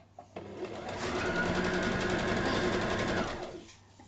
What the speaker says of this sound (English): I'm going to mute again because I'm still sewing.